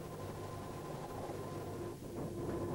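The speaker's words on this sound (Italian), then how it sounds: "Ed ecco il nostro treno entrare in stazione in deviazione" A train rolls into a station and switches from the main line onto a diverging track, heard as a steady, distant low rumble of wheels and rail noise with a slight shift in tone near the end.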